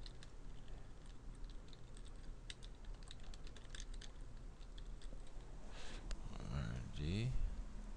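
Passwords are typed on a computer keyboard as a run of faint, quick key clicks, with a voice speaking at low level toward the end.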